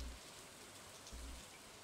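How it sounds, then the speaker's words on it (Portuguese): Rain falling in the farming game Stardew Valley, a very faint, steady hiss of raindrops with no talking. "Tá chovendo, a gente não precisa regar."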